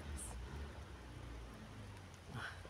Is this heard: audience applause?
no